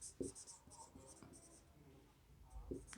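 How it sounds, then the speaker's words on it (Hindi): A sentence is written on a classroom board, with short squeaky marker strokes in quick bursts and a few light taps, fairly quiet and close, with no speech over it. "मैं एक तीसरा सेंटेंस लिखता हूँ"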